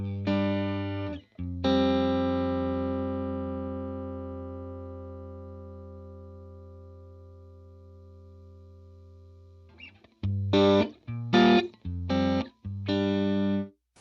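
An electric guitar played through a Matchless amp with tremolo: a full chord rings out and slowly decays, then short choppy chords pulse with a throbbing, wavering volume, loud and clear with no talking.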